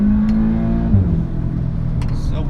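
An Audi S3 engine revs and drones up close, its pitch holding and then dropping as the throttle eases, with a few faint higher noises near the end.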